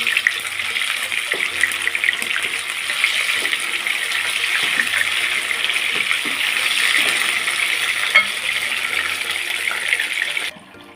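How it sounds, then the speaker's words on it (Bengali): Chicken pieces fry in oil in a pan, giving a steady, even sizzling hiss that runs unbroken for about ten seconds with no one speaking. "ভালোভাবে ভেজে নিতে হবে"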